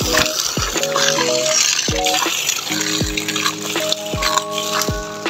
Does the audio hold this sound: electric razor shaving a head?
no